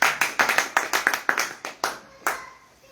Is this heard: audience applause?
yes